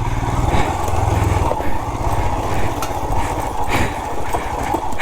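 Royal Enfield Himalayan motorcycle being ridden off-road over rocky ground, its single-cylinder engine thrumming steadily and loudly at close range with small shifts in pitch and no talking.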